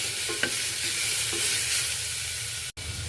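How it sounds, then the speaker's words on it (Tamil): Whole spices, bay leaf and ginger garlic paste sautéing in a pan for a simple chicken curry, a constant close sizzle with a few stirring scrapes and a brief cut near the end. "இந்த மாதிரி நல்லா வதக்கி விடலாம்."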